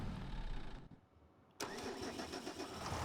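A tractor engine cranks and catches, falling briefly quiet before firing up into a steady, loud mid-pitched idle close by.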